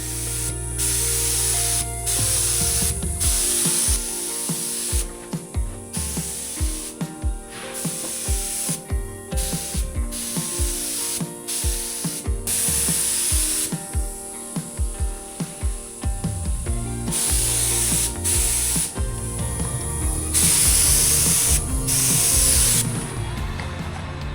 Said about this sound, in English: a clean spray of our Alexseal finish primer